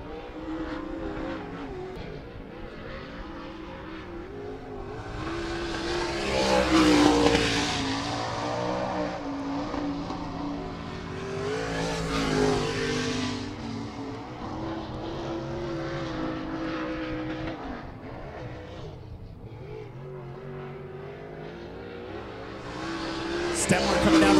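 A late model race car on a qualifying lap at I-96 Speedway, its engine roaring steadily with passes swelling louder around the middle, under continuous announcer commentary.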